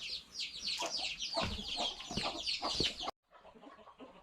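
Chickens and young chicks cluck and peep busily together at feeding time on a farm, a dense, close chorus of overlapping calls that briefly cuts out before continuing more quietly.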